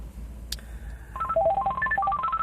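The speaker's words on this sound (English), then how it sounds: "Phone call coming in." A phone rings with an incoming call, a short electronic ringtone melody of quick stepped tones after a brief click, fairly loud over a low steady background hum, with no talk.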